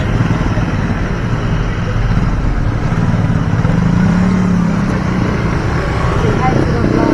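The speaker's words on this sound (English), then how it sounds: "the motorcycles, as they should be, are in the express lane" Steady roar of motorcycles passing nearby in the express lane of a road on Bohol, Philippines, with engine drone and rumble continuing throughout.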